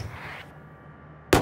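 A single sharp, loud gunshot from the VALORANT shooter game cracks out near the end, after a stretch of quieter game ambience.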